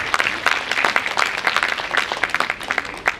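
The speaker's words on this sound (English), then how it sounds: "please welcome Sir with a big round of applause" Enthusiastic applause at an IEEE international conference inauguration ceremony as a guest speaker is welcomed; close, busy clapping from a hall audience, loud and continuous for a few seconds.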